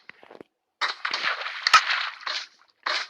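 Rapid bursts of gunfire in a video game, a brief crackling volley followed by several more sharp, dense clusters of shots at close range, with short gaps between them and no talk.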